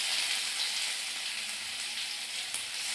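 Garlic sizzling in hot oil with dried red chilli and mustard seeds for a sour dal tempering, a steady bright hiss of frying, close and continuous, with a faint tap of a utensil.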